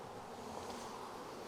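Honey bees clustering at a hive entrance outdoors, a steady soft buzzing hum of many insects with faint breezy rustle throughout, no voices.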